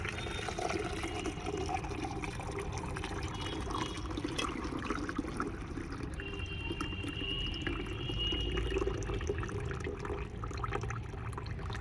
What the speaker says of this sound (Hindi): इसको हम अब छाने ले रहे हैं